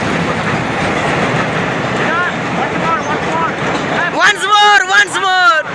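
A train rolls past in Minecraft with a continuous loud rushing rumble and clatter, and voices chatter excitedly over it near the end.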